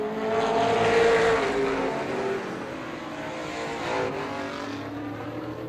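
Race cars at Star Speedway in a 1993 feature roar past in a sustained engine drone that swells near the start and again around the fourth second. An announcer's voice briefly breaks through the din.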